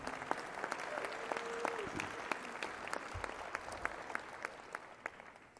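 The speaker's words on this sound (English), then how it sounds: "let's have a fine round of applause for Fred Rogan and his honor" A civic audience at a state of the city address gives a sustained round of applause, steady crowd clapping with a few sharper nearby claps standing out, and a brief tonal sound in the middle.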